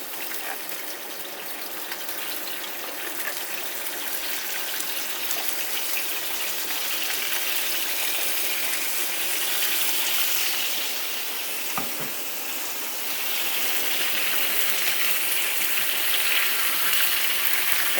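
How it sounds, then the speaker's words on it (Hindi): One kilo of chicken fries in oil on a flat tawa, a steady, close sizzle and crackle that builds slightly louder over the span, with one brief stir or clatter midway. "तो मैंने यहाँ ऑयल डाल दिया है तवे पे और सबसे पहले मैं ये डाल दूँगी चिकन।"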